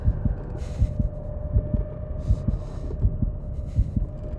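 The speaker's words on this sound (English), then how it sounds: "The problem with having the noise and the heartbeat is that quite often I can't hear where the monster is." A heartbeat sound effect from the horror game Call of Cthulhu, a steady, thudding double pulse repeating regularly over a low constant hum, with no voices.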